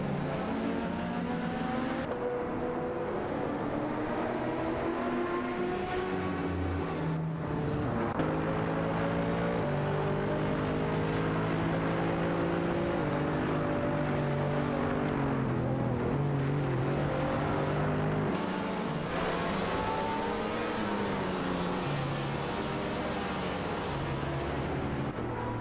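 Race cars roar continuously in an AI racing video game, layered engine whines rising and falling as many cars accelerate and shift together, dense and loud throughout with no voices.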